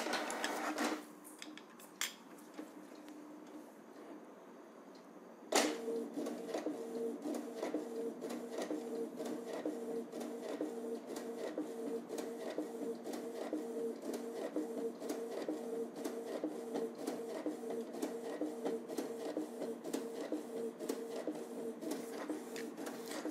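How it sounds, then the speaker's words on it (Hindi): An inkjet printer refilled with ink prints a colour page: a sharp start, then a steady mechanical whir with a rapid rhythmic chatter of the print head running close and loud, with no voices. "अभी let us take a colour print out."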